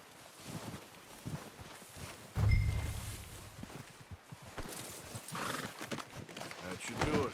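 A horse in Red Dead Redemption 2 clops along and gives a whinny and snorts close by, with a heavy thump partway through and someone talking intermittently over the hoofbeats.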